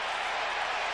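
A football stadium crowd roars during the Dallas Cowboys at Atlanta Falcons game in 2006, a dense, sustained wash of crowd noise that stays steady throughout.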